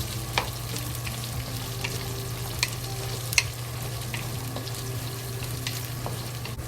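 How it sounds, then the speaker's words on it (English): Long beans fry in hot oil with garlic, chili pepper and scallion, a steady close sizzle with a few faint utensil clicks throughout. "We add the long beans into it to fry."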